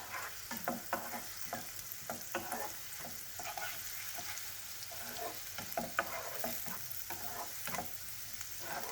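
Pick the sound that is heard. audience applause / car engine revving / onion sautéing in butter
onion sautéing in butter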